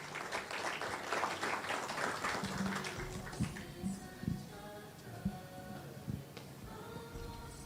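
An audience at a Christmas singing and Bible quiz gathering applauds, a fairly faint wash of clapping that tapers into scattered claps, with a few voices and other sounds underneath.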